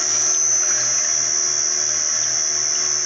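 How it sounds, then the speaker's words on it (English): A 70 mm screw press crushes canola seed for oil, giving a steady electric whine and hum with a faint pulsing low throb repeating about every third of a second, constant and close. "We're pressing canola seed right now."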